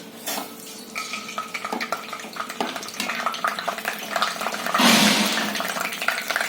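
Curry leaves hitting hot oil in a pan for a mixed vegetable curry: rapid spoon clinks and stirring, then a louder burst of spitting sizzle near the end, close and busy, no speech.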